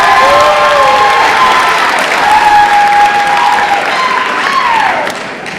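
An audience at a high school meet-the-coaches night applauds a wrestling coach with a dense, steady wash of clapping that holds for several seconds, mixed with faint tonal squeaks, and eases off slightly at the end.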